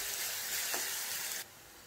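Chopped green chilli and garlic sautéing with onion in a pan, a steady bright sizzle and crackle with a light stir, then quieter frying as the sizzle drops off near the end.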